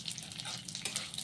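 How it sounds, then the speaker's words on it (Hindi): Cashews and almonds frying together in ghee, a faint, brief, even crackling sizzle heard close with no voices. "काजू और बादाम दोनों फ्राई हो रहा है"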